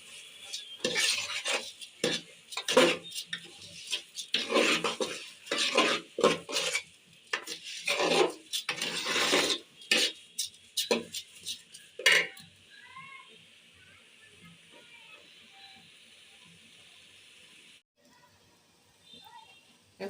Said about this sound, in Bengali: এখন আমি দিয়ে দিচ্ছি এর সাথে চাল দিয়ে 5 মিনিটের মতো চালগুলোকে ভেজে নিয়ে